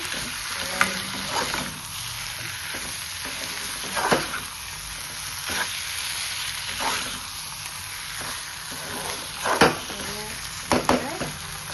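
Chicken with coriander sizzles steadily in a hot pan, with a constant frying hiss broken by periodic scraping stirs of a spoon against the pan, close up and without talk.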